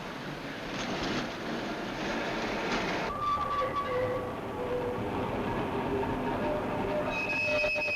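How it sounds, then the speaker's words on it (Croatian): A late-night tram running on rails rolls past with steady rumbling wheel noise, then thin high wheel squeals ring out as it continues along the track, fairly close and with no talking. "Na spavanje ide i ovaj naš zadnji tramvaj."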